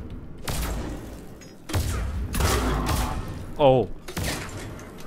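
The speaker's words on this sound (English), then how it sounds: "there's a falcon shot" Explosive bursts from Falcon shots in the Mass Effect 3 multiplayer game, with a Krogan Battlemaster firing a Claymore: several loud broadband blasts and thuds with ragged gaps between them, plus a brief voiced exclamation.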